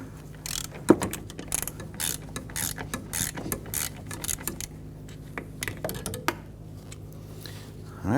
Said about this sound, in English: you can use a socket and extension with a ratchet